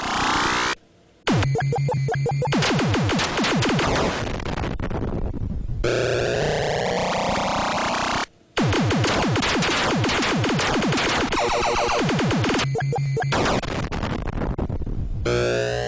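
Frantic electronic effects from the 1982 arcade game Robotron 2084: dense zapping sweeps, buzzes and laser-like chirps in a constant barrage, broken by two brief silences.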